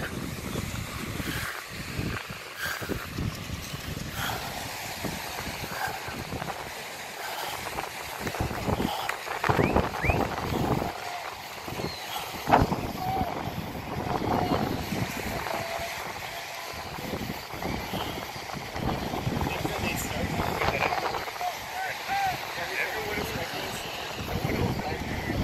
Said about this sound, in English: Windy outside today, guys